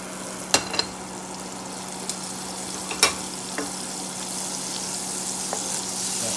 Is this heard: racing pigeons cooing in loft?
no